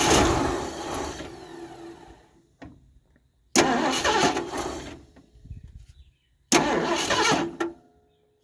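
A 1978 Mercury Marquis Brougham parts car with a 400 engine and a sticking choke is cranked three times. Each loud, close starter burst catches briefly and dies, with quiet gaps between attempts.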